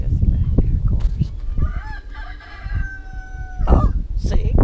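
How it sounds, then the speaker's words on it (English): Farm roosters and chickens crow and cluck nearby, a long rooster crow rising through the middle while someone talks over the flock. "Got lots of chickens."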